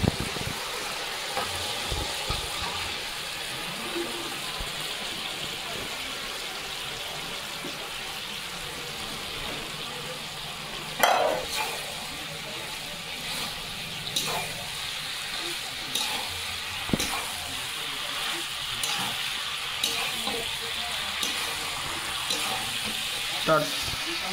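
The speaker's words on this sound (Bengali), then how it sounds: "এবার দেখুন ভেজে রাখা সব রকম সবজি আমি দিয়ে দেবো।" Fried mixed vegetables stirred into spiced oil for a Bengali vegetarian festival meal, a steady hissing sizzle with occasional clatter of a spoon, under a voice speaking.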